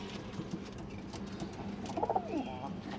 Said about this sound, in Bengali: এখানে আছে 5 জোড়া কবুতর রাখছে এখানে আবার